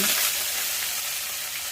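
Curry leaves, garlic and onion fry in hot oil for a Tamil kara kuzhambu, giving a steady, close, bright sizzle that stays even throughout with no voices.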